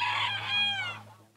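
A rooster crows at a cock-crowing competition in Amay, Belgium, giving one long, loud, close crow that rises and then trails away, with a low steady hum beneath it.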